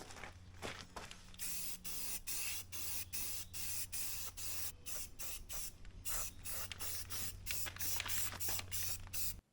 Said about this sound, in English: we might even get a little crazy and spray paint part of it